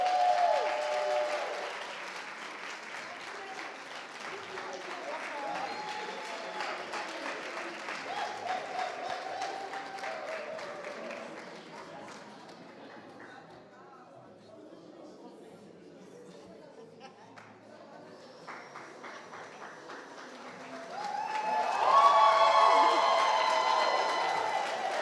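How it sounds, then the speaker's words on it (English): An audience at a research poster and three-minute-thesis competition finals applauds and cheers a prize winner. The clapping swells, dips into quieter murmuring and chatter mid-way, then rises again in a louder burst of claps and cheers. "A round of applause for him once again"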